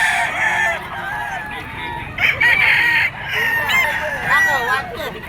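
A gamefowl bull stag crows close by, with repeated strained crows and clucks from nearby roosters overlapping at a busy scratch pen, under faint background voices.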